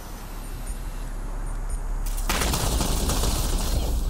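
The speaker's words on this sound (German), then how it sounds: "Ich habe meine Munition verschossen und sie hat nichts mal was gebracht." Gunfire in the shooter video game Ghost Recon Online, a dense burst of shots erupting halfway through over steady background noise.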